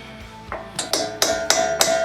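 A hammer strikes a part on a Jeep Wrangler axle during an inner axle seal replacement, giving five sharp metallic taps at a quickening pace, close and clear.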